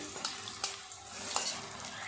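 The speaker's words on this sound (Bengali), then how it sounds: "এই পাঁচটা ভাজা হয়ে গেছে, উল্টিয়ে অপর পিঠটাও ভালো করে ভেজে নেব।" Yam koftas fry in a little oil in a pan, giving a quiet, continuous sizzle broken by a few light stirring or turning clinks.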